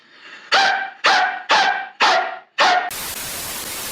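Five sharp dog barks from a woman imitating a dog, in a steady rhythm, close and loud, followed by a burst of static-like noise.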